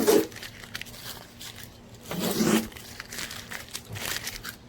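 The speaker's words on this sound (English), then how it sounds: "So let's get the tape off" Masking tape peels off the paint of a black 2020 Kia Stinger GT during paint correction, with a few close, crinkly tearing bursts separated by softer rustling and no talk.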